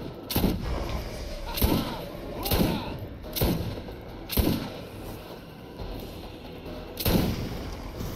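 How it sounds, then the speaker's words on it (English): A shotgun in Borderlands fires six heavy booming blasts at uneven intervals, each a sharp punchy shot with a short decay, over a low hum of game ambience. "The shotgun has got such power to it."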